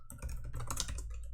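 Quick bursts of close typing on a computer keyboard while writing decompiler code, a dense run of clicking keystrokes with no one talking.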